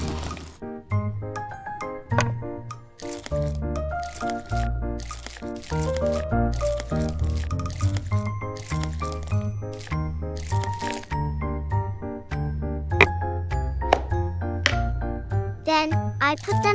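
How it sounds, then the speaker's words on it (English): A knife chops watermelon, orange, mango and avocado one piece after another on a cutting board. Crisp, repeated crunches and cuts sound close by, under steady background music. "Firstly, I chop watermelon, orange, mango, and avocado one by one on the cutting board."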